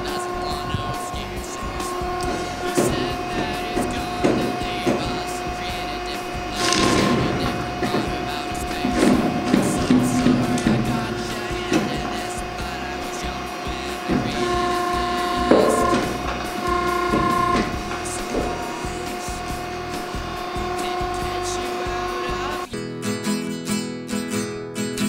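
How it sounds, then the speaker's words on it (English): A Bluedog BMC-10 motor crushing machine pulling copper windings out of a halved electric motor stator, giving a loud sustained mechanical grinding and whirring with repeated knocks and clunks, while a voice talks over it. "This is the stage where we extract the copper windings from the stator,"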